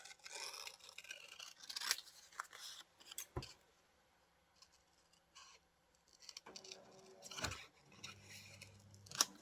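Scissors snip through paper while digital images are cut out for a cowgirl-themed junk journal, giving scattered rasping cuts and rustles at close range, faint and uneven, with no voices.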